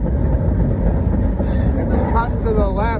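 A passenger train heading toward Nashville rumbles along the rails with a loud, steady low roar, and a voice is heard speaking over the noise near the end.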